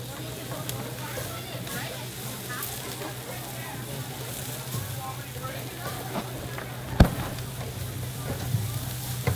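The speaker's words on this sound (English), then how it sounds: "I want to hear that sizzle." Food sizzling on a grill at a halal food festival stall, a steady hissing crackle under crowd chatter and nearby talk, with a single sharp knock near the end.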